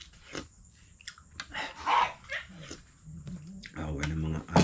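Dogs whimpering and giving short barks and yips, with people talking over and between the calls; a louder, sustained whine rises near the end.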